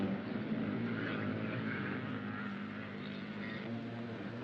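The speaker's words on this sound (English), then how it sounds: "Engines scream as they roar up the banks." Several 1960s scrambling motorcycles at a race roar up the banks, a continuous droning engine noise heard from a distance with no breaks.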